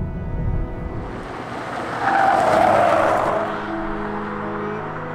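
A Toyota Prius Plug-in is pushed hard through corners on a winding road, with engine and road noise overlaid by a sustained tire squeal in the middle of the clip and no talk.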